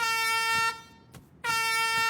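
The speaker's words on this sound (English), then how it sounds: "Did they hear the horn? I don't know. Maybe honk it again." A loud, sustained air horn blast with a harmonic tone, breaking off briefly in the middle before sounding again at full volume.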